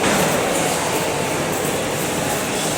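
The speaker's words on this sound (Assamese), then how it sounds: "ফাইনেলি আমি হলত আহিলোঁ এছএমবিটিত ৰেলৱে ষ্টেচনত" Dense, continuous rumble of the busy indoor hall of SMVT Bengaluru railway station, with train and rail noise blending into a loud, echoing wash of sound.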